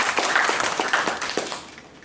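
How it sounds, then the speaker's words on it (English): Audience applause at a Toastmasters meeting greeting the general evaluator: a short burst of steady clapping from a small room, fading out toward the end. "A big round of applause for the general evaluator."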